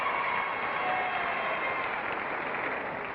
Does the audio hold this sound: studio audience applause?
yes